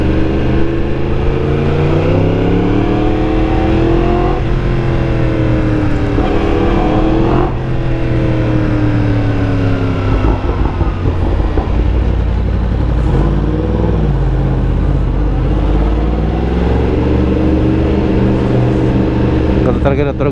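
A crossplane superbike engine drones loudly and steadily at night, its pitch swelling and dipping with the throttle, while people talk over it throughout.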